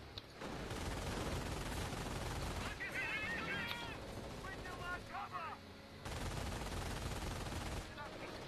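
Sustained machine-gun suppressing fire in Company of Heroes, steady rattling bursts that pause briefly midway while other battlefield noises and chirps come through, then resume loudly.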